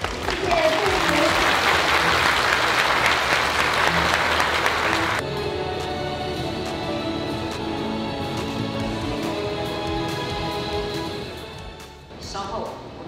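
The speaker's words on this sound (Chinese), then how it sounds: "给予专案的工作人员掌声与鼓励" Loud, dense applause rings out for the submarine project staff at a Taiwanese naval ceremony, lasting about five seconds before cutting away to quieter sound with a person speaking.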